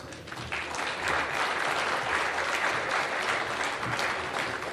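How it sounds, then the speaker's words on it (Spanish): Applause greets invited guests at an agricultural insurance conference, broad and steady clapping from the audience that swells after a brief start and holds strong to the end. "Un fuerte aplauso para ellos."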